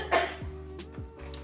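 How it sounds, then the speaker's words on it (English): A short fit of close coughing from a whiff of Cajun blackening seasoning: one harsh cough followed by a couple of lighter throaty coughs, with no talking. "that seasoning got me coughing, sorry."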